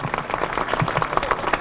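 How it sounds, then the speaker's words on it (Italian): A crowd applauds the town band of Crispiano after a centenary parade, with dense, steady outdoor clapping that holds at a fairly even loudness throughout. "facciamo davvero un altro grande applauso per la banda Città di Crispiano che ci ha accompagnato in questo corteo"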